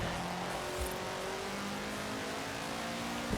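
A race car driving in Forza Horizon 4 during a race: a steady, droning engine hums continuously at high revs, with no pauses or gear changes standing out.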